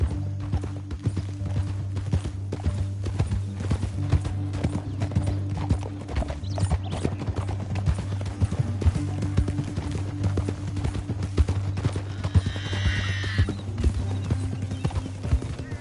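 Horses gallop in Red Dead Redemption 2, a steady, fast clip-clop of hooves lasting throughout over a low rumbling drone, with a brief whinny near the end.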